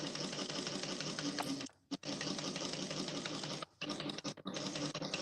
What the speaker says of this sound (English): So I just did some top stitching.